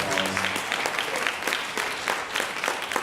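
At a state finals contest, the audience gives the participants a steady round of applause, with individual claps standing out in the dense, continuous clapping before the awards.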